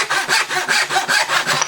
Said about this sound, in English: with a hand saw, I don't know the difference. I'm just sawing to whatever line shows up.